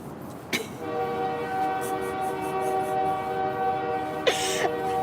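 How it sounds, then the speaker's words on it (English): A train horn sounds one long, steady, harmonic blast at middle distance. Two short broadband bursts cut in near its start and end. "Nah, that wasn't even like a regular train horn. That was a toot."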